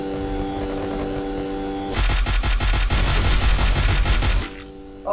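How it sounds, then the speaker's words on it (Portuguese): Video game gunfire on an emulator: after a steady electronic hum, a rapid burst of automatic shots rattles loudly for about two and a half seconds, then cuts back to the hum. "Tem um tiro aí"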